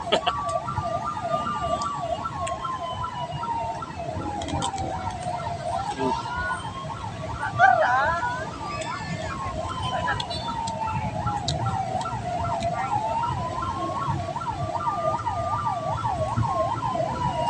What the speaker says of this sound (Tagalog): Yan ang ambulansya.